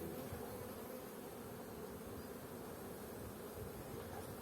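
Honeybees drone at an open hive in mid-April, a dense continuous hum that stays even and unbroken throughout, close by with no voices.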